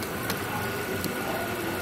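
A Mercedes-Benz S350 engine runs steadily with a broad, even mechanical roar, close and constant, with two faint clicks over the top and no clear rise in revs.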